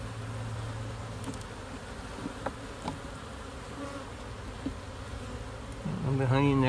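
Honey bees buzzing around hive frames, a constant low hum of many insects close by, with a louder buzz swelling near the end.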